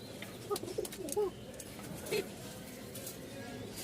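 A male Rajshahi Giribaj pigeon coos in a few short, separated calls against a steady low background hum, with moderate loudness and gaps of silence between the coos.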